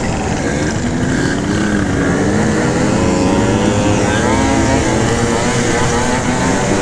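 Scooter with an open carburetor riding through city tunnels, its engine droning loud and steady with wavering pitch, wind and road noise filling the enclosed space throughout.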